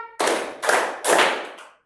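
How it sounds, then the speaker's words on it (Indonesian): A classroom of students claps together three times in unison. The claps come as sharp, fairly loud bursts close by, evenly spaced, each with a short ringing tail, and no one speaks over them. "Tepuk 3."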